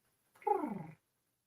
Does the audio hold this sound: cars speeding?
no